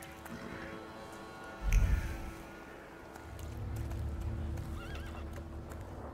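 In the game The Thaumaturge, a horse gives one sharp neigh close by, followed by a stretch of steady hoofbeats clip-clopping along over a low ambient bed.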